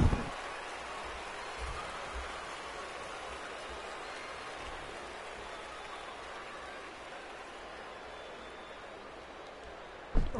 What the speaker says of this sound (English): Rain is a good thing. We need it here in the city.